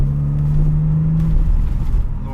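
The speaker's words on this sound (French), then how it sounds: "on lui a installé un petit échappement super sport." A BMW 325i with a 2.5-litre engine and sport exhaust sounds a close, loud low rumble, with a steady droning tone that fades as the engine note shifts.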